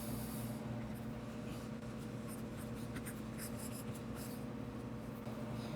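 A pen or marker scratches continuously across a writing surface while prime factors are written out for a math lesson, faint and steady under a constant background hiss.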